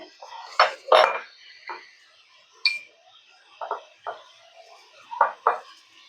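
A spoon scrapes and knocks against a pan while chicken is stirred and fried, making sparse, separate metallic clinks with quiet gaps between them, close and fairly soft.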